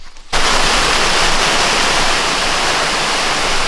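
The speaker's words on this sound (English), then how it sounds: "there's definitely a lot of sprinkles hitting the water" Light rain sprinkles onto open water beside a boat used for fishing, starting abruptly as a loud, dense, steady hiss of drops that continues without break and without talk.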